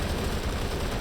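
Rapid machine gun fire in a Company of Heroes style tramway battle, a dense continuous burst of shots with no voices.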